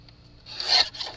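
A paper trimmer slices card stock in one short, smooth rasping swipe that swells and fades within about a second, close and fairly quiet against a still background.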